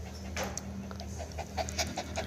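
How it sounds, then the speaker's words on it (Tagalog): A dog pants close by in quick, rhythmic breaths with soft wet huffs, fairly loud against a low room hum and no talking. "Hinihingal ka na."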